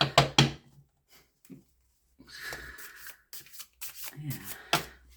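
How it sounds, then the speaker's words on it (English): Tarot cards are shuffled and riffled in several bursts of crisp flapping and rubbing, with short pauses between, close by. "I think the cards are asking me to just do another shuffle"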